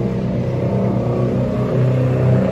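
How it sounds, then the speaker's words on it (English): A motorcycle passes outdoors, its engine droning loud and steady, then swelling as it nears, with no talk over it. "sorry, I got a motorcycle."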